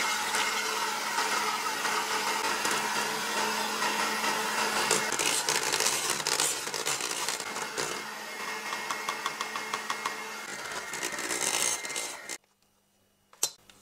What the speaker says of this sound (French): Il est temps maintenant de monter nos blancs en neige avec le sucre glace.